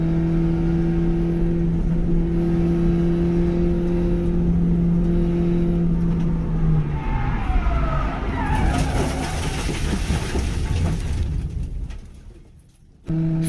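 Engine of a Hyundai Excel race car spinning out at high speed on a race track, a loud steady drone that shifts and scrubs as the car rotates, then briefly drops away before returning.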